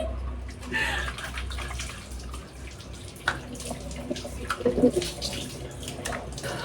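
Water splashing during face washing, with close irregular splashes and drips over a running-water background, louder bursts toward the middle, and a voice speaking briefly.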